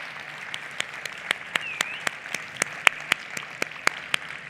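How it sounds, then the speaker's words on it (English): At the BAI Global Innovation Awards ceremony, applause from an audience, a steady wash of clapping with a few sharper individual claps standing out, fairly close and with no talking over it. "I'd like you to give a round of applause to Angela Hills."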